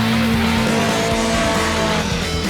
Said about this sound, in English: just balance the throttle to keep it sideways